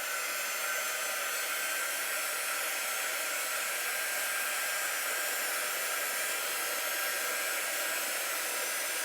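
A hair dryer blowing on chalk paste, a loud, steady close whir with constant airy hiss, running unbroken throughout.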